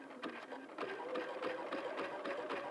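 A sewing machine runs slowly while stitching inside a hat, a quiet close steady whir with an even needle pulse throughout.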